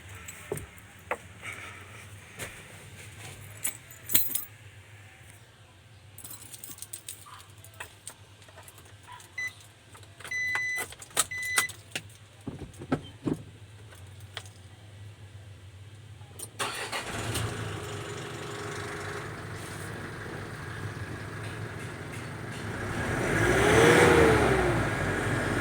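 A carbureted Multicab with a remapped engine and a freshly repaired overheated head gasket cranks with a few beeps and clatters, catches, then idles roughly before revving up loudly near the end.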